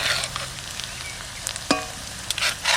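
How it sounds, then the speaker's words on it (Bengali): Ground spice paste added to hot oil for a Bengali cabbage kofta curry, crackling into a lively close sizzle with the scrape and clink of stirring. "এবার দেবো বাটা মশলা"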